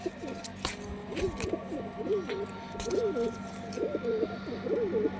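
White pigeons in a loft cooing, repeated soft throaty coos in a steady rhythm at close range, with a few sharp clicks and flutters in between.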